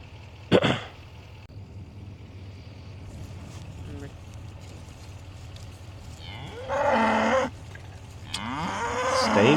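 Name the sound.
cow mooing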